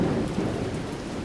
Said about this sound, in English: And that was when the lightning bolt hit the dumpster.